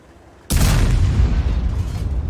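The big gun of an RHM tank destroyer firing in a tank battle video game: one sudden heavy boom followed by a deep, loud rumble that lingers to the end.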